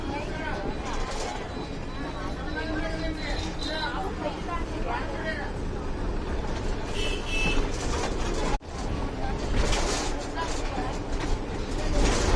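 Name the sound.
railway station ambience, Old Bagalkot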